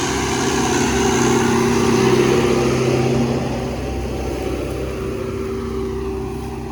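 A tractor's diesel engine pulling a Veles Agro 2+1 plough drones steadily and loudly close by, holding a low rumble throughout with a slight drop in level partway through.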